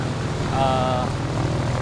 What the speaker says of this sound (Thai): อันนี้ใบพัดมันหมุนตลอดเวลาอย่าเข้าใกล้ใบพัดนะ